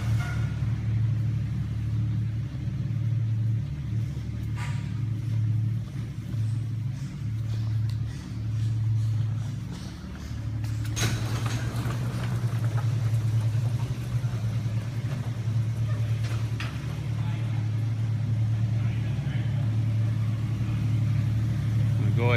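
Jeep Cherokee Classic with 58K miles rolls along on a test drive, a steady mid-pitched engine drone and road rumble throughout, dipping briefly near the middle before picking back up.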